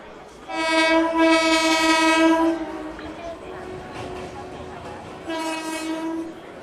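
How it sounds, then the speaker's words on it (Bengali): Two long, loud train horn blasts with a lower rumble between them as the train starts moving out of a station. "একটা লম্বা হুইসেল দিয়ে ট্রেনটা চলতে আরম্ভ করলো"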